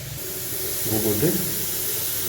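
Onions frying in a pot for Tamil-style beef gravy give a steady soft sizzle and hiss that swells briefly midway, heard close up with no talk.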